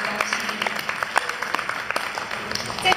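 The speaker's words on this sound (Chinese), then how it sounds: "来，我们再次的给自己一个掌声" Audience applause at the closing ceremony of a Chinese youth summer camp in Toronto, a steady patter of many hands clapping in a hall for the full few seconds, with a few sharper claps standing out.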